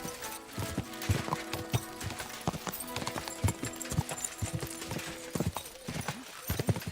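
Horse hooves clip-clop in the video game Kingdom Come: Deliverance II, a steady, fairly close run of sharp strikes at an even walking rhythm over faint ambient background.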